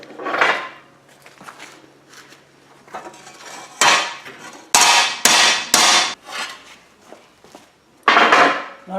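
A hammer strikes sheet metal being shaped into a whale sculpture, with sharp ringing clangs at irregular intervals, including a quick run of three, separated by quieter scraping and handling noises.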